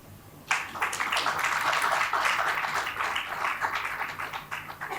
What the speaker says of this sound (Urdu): اب آپ تالی بجا سکتے